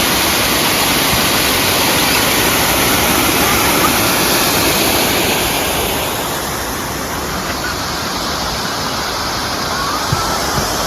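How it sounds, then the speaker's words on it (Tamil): A forest stream near Kotagiri flows through woodland with a loud, steady rushing of water that holds continuously, easing slightly in the second half, with no voices. "தண்ணி அப்படியே காடுகள் வழியாக அந்த பக்கம் வந்துட்டு இருக்கு."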